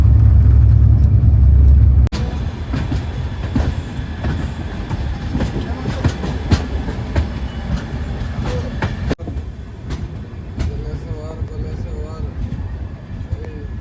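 The 18409 Sree Jagannath Express, a passenger train arriving at Puri, gives a loud, steady rolling rumble on the rails with a sharp jolt near the start and faint clatter throughout.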